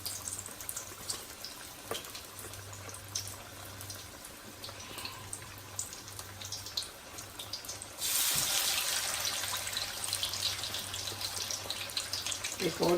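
Spiced fish pieces are lowered into hot oil in a pan to deep fry. A soft steady sizzle plays under a low hum, then jumps to a louder, dense crackle as another piece goes in.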